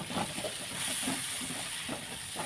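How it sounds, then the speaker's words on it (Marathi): Dry ground spices, red chilli powder among them, frying in hot oil for a peas and mushroom curry, heard as a steady close hiss with faint stirring pulses and no speech. "सर्व मसाले तेलामध्ये व्यवस्थित परतून घ्यायचे"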